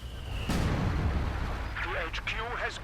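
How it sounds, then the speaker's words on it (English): A rifleman anti-tank grenade bursts in Company of Heroes 2, a sharp loud blast followed by rumbling battle noise, with a commentator's voice talking over it. "One of those extremely long range rifleman AT"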